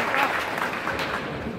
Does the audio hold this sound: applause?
yes